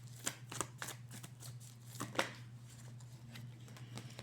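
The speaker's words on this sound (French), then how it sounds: "Je vais reprendre une carte." Tarot cards being drawn and handled from a deck, a quiet series of crisp papery flicks and slides, close and faint against a low steady hum.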